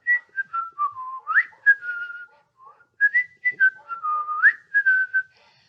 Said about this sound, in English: if you can find a YouTube of someone whistling